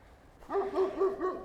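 A dog barks four times in a steady rhythm, moderately close and fairly loud, along a snowy residential street in winter Seeley Lake, Montana.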